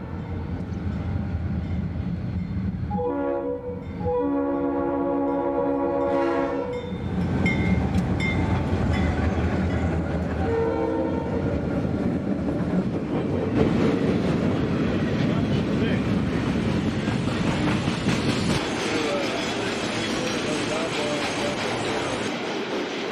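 A goods train overtakes on a railway line at a station stop, its wagons rumbling and clattering past loudly and steadily with wheel clicks throughout, a tonal horn-like sound early on, over a background voice track.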